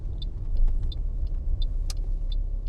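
In-car rumble of traffic at a roundabout in Coatbridge, a steady low road and engine drone with a regular ticking indicator, close and continuous, with no talking.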